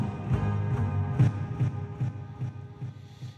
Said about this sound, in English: you take a low cut filter on an EQ and then automate it to sweep up in frequency like this.